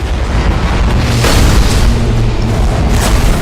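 Warship main batteries fire in Battlefleet Gothic Armada 2, a loud, continuous booming barrage with heavy low rumble and repeated blasts rolling over a few seconds.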